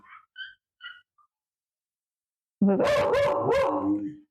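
A few faint, high yips, a pause, then a loud, close burst of two or three quick dog barks.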